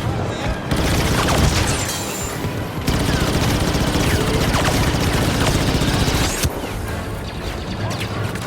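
A grenade explosion amid gunfire in Star Wars Battlefront 2, during a Rebel attack on Endor, heard as loud continuous battle noise with dense overlapping shots and blasts and a sharp burst partway through.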